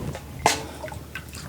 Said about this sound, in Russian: И тоже сюда на донышко наливаем воды.